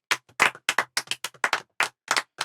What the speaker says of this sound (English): Claps. Everybody.